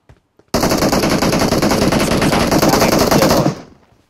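Sustained burst of automatic gunfire from a gun in a video game, a rapid loud stream of shots lasting about three seconds before cutting off and trailing away, with no voices.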